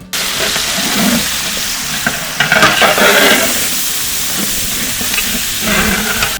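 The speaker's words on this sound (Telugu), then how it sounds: "మటన్ వేస్తున్నానక్క. మటన్ని అట్లా ఇట్లా బాగా కలగబెట్టాలన్నా." Mutton pieces stirred into golden fried onions in a pot for a Muslim-style mutton curry. A loud, steady sizzle and hiss of frying continues throughout, with a brief burst of scraping and stirring in the middle and no voices.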